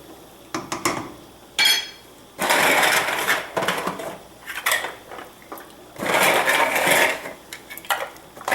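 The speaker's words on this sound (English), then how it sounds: "I'm just going to give my pot a little stir as I'm adding them so they don't get stuck to the bottom" Pasta shells stirred in a pot while cooking stuffed shells: bursts of scraping, clattering and rattling come in two louder stretches with quieter clinks and knocks between them, close and with no voice.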